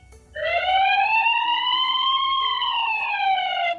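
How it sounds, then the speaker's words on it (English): A single long siren tone swells upward and holds steady, loud and sustained for several seconds with no talking. "Fire engine."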